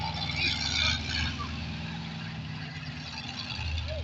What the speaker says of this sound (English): what you can hear there is the roar of 500 horsepower